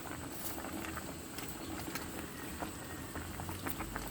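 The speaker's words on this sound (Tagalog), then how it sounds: "Isang kulo na lang ito." A pot of Filipino laswa vegetable stew with taro, squash and other vegetables, cooked without oil, bubbles at a steady rolling boil. The dense, continuous bubbling and popping is close and fills the whole stretch, with no voices.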